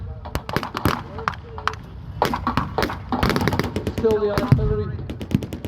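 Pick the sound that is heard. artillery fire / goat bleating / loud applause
artillery fire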